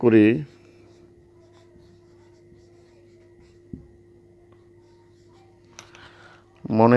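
Someone writes by hand in a quiet room while explaining physics, pen scratching softly and steadily across paper with a faint tap, close but low, with someone speaking just before and after the writing.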